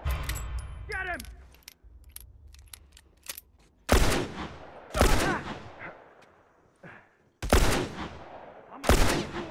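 Gunfire in the video game The Last of Us, where several loud, booming shots ring out at intervals with long echoing tails. Shouting and in-game voices come between the shots, along with metallic clinks and scuffling.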